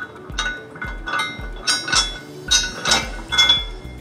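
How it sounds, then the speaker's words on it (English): Metal carriage bolts drop one after another into a steel trailer hitch on a 2014 Chevrolet Impala, giving about eight bright clinks and rattles at an irregular pace. "We're gonna take our provided carriage bolt and we're gonna go ahead and drop them in."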